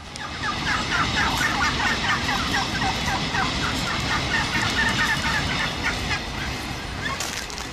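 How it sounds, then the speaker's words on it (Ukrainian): A flock of turkeys let out to graze on a spring day, gobbling in repeated bursts over a busy, rustling background, close and fairly loud throughout. "Ось я знову вигнала своїх індиків, щоб вони попаслися"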